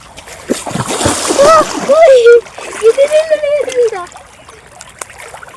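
Children splash and play in the water at a broken check dam in a village. The close splashing is mixed with high children's calls and shouts.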